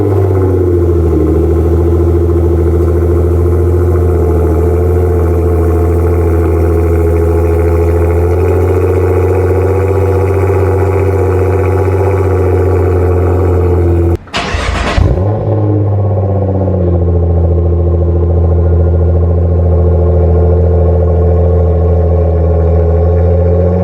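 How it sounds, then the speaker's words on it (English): A Nissan GT-R R35 with Fi exhaust valves open idles loudly from a cold start, a deep steady rumble that holds, then briefly blips higher before settling back to a lower, smoother idle. "We're gonna give you guys a cold start with the valves open."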